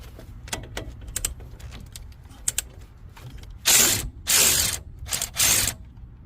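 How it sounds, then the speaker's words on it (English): A ratchet clicks in quick bursts, loosening a 21 mm nut on a Dodge Ram 1500 pickup during a lift kit install, with close, sharp pawl clatter and a few louder rasping spins. "we're gonna take this 21 millimeter nut off right here."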